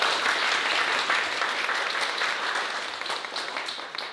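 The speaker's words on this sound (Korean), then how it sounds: "우리 박수로 한번 환영드리겠습니다" Steady applause from a church congregation during a Sunday service, sustained and even for a few seconds with no voices over it.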